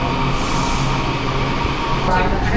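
A New York metro yellow line train rumbles loudly and steadily, with dense rolling rail noise throughout and no clear speech.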